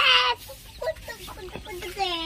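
Village hens cluck and chirp in short bursts close by in the morning, with higher peeping calls of chicks mixed in among them.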